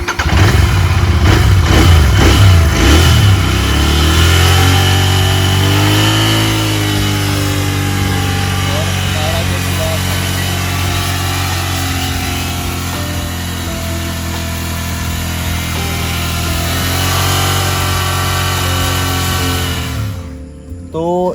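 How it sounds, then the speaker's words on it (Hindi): A Royal Enfield Continental GT 650 parallel-twin motorcycle engine revs up toward 6000-7000 RPM, a loud, steady, continuous drone that climbs and holds, heard close with no talking over it. "तो अभी हम रैप करेंगे इसको 6 या 7000 RPM तक,"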